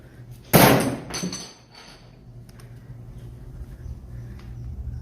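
A thrown hammer hits a polycarbonate panel: a single sharp, loud impact with a bright clattering ring, quickly decaying, followed by a few faint rattles and low background noise.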